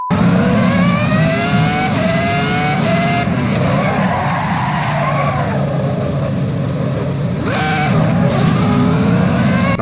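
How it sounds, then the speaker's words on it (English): A V10 Formula 1 car screams around the Austin United States Grand Prix circuit in Assetto Corsa EVO, loud and close, with rising and falling revs through gear changes, a sharp upshift sweep near the end, and tire squeal throughout. "nothing will beat the sound of V10 F1 car, that is for certain"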